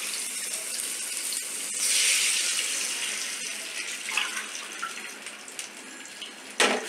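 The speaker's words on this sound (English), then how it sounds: "now we have to add 3 1/2 glasses of water." Water pours steadily from a glass into a pot of mixture for boondi rice, a continuous close gush and splash that swells, then tapers off with a few trickles and a final clink near the end.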